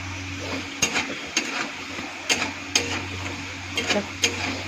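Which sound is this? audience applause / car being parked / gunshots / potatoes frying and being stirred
potatoes frying and being stirred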